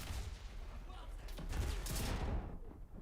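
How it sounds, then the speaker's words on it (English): Video game combat erupts in a dense barrage of gunfire and explosion thumps, rapid and layered, building to heavier bursts midway before tapering off, fairly faint overall. "I couldn't see him back there because of the fucking explosions that were hitting me"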